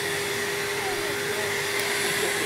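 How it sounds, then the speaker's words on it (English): The dust vacuum attached to a medical cast saw runs with a steady, continuous whining hum, fairly quiet and even, with no one talking. "That's the vacuum sucking up the dust."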